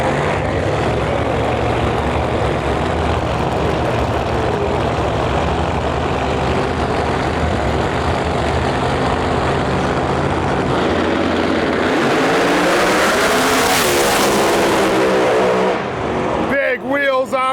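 Drag racing car at an eliminations event roaring loudly down the track, a sustained engine blast with a rising whine near the end that cuts off abruptly, with an announcer talking over it.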